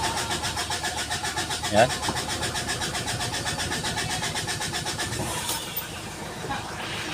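A 2017 Mitsubishi Strada with a 4D56 diesel engine, hard starting from water-contaminated fuel and a damaged injector, cranks and fires after fuel bleeding, then settles into a steady rhythmic close-up idle clatter while someone speaks briefly.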